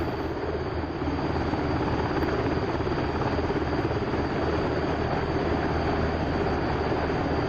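HH-60 Pave Hawk helicopter in the DCS flight simulator during a water search-and-rescue sortie: a steady, dense rotor and turbine roar that holds a constant, loud level throughout, with no talking.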